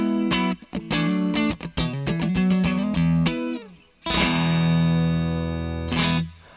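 Clean electric guitar with a little reverb plays a quick run of picked notes, then lets a full chord ring out and sustain before a final strum.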